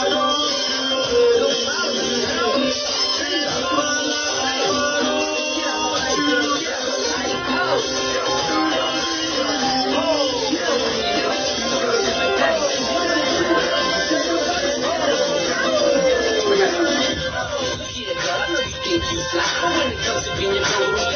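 A song plays on a radio broadcast as a dense, continuous music mix at steady loudness with no talk over it.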